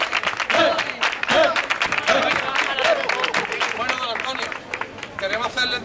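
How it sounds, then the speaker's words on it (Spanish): Applause from a crowd at an outdoor carnival mussel-feast gathering in Marbella, steady clapping through the whole stretch with voices and cheering mixed in close by. "Un aplauso grande."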